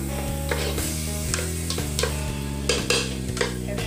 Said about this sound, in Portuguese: Aqui eu já coloquei ele na panela, um pouquinho de óleo, cebola, tomate, pimentão,